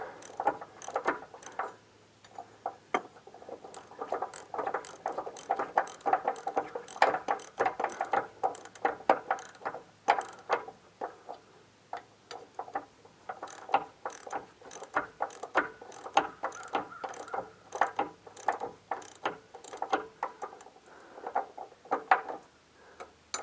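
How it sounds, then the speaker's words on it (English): Rapid ratchet clicking while tightening 9/16 bolts on a Caterpillar 267B compact track loader's track, a dense run of close, sharp mechanical clicks in quick bursts continuing steadily without talk. "And then we just tighten down these 9/16 bolts."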